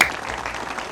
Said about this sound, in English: A round of applause for this one.